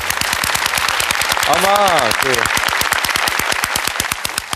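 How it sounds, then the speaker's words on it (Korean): Rapid, regular clapping from a talk-concert audience, loud and close, with a brief voice rising over the beat partway through. "박수 한번 주세요"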